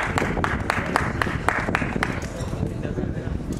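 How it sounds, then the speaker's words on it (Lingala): An audience clapping at an artists' foundation ceremony, a moderate, steady patter of applause with sharp individual claps standing out, mixed with voices talking. "est-ce qu'on peut applaudir encore une fois très très très fort"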